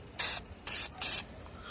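Three short bursts of spray paint hiss in quick succession as cabinet screws are resprayed, each burst close and crisp with brief quiet gaps between.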